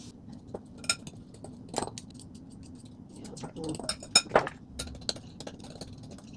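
A fork clinks and scrapes in a small dish while a butter and sugar streusel-style topping is mixed for a breakfast cake, with scattered close taps and scratches over a low background hum.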